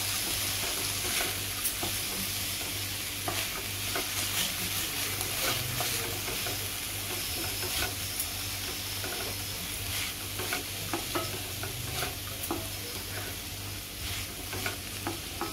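Cabbage and chana dal sabji is stirred in a hot pan, with steady sizzling and frying throughout and repeated scraping, clicking spoon strokes, close up and continuous.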